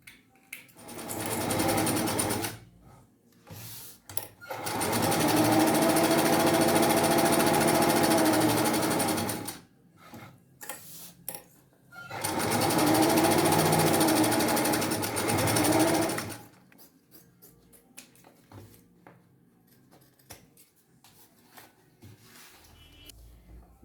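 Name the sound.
sewing machine stitching bias binding onto fabric pouch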